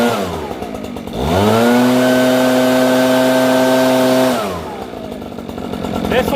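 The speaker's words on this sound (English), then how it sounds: "This blower also has a lock-in feature and an on and off." A handheld blower with a lock-in feature spins up quickly, holds a loud, steady whine for about three seconds, then winds down, with speech heard faintly around it.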